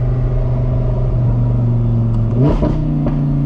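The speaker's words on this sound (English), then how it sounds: "That downshift worked right there." Audi R8 supercar engine droning steadily, then blipping sharply in a quick rev as a paddle downshift goes through, settling back to a lower idle-like hum, loud and close.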